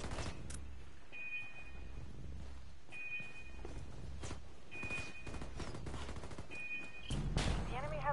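Heavy gunfire in a Ghost Recon video game: sharp, close bursts of rifle and machine-gun fire in repeated volleys, with brief electronic tones between them and a louder clatter at the end.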